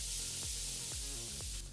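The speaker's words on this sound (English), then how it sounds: "it comes back in with a simple piece of white noise" Steady white noise hisses throughout, loud and even, with faint low tones sweeping downward underneath at regular intervals.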